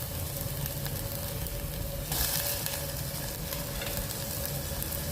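Finely chopped tomato sizzles in a pan with chopped ginger, garlic and curry leaves, a steady close frying hiss that swells briefly partway through, with no talking.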